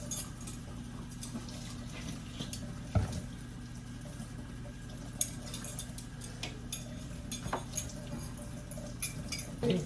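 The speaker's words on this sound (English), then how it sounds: "I'm gonna wash them right now" Tap water runs steadily over food being washed in a kitchen sink, a soft continuous hiss with a few light knocks and clinks of dishes, no talking.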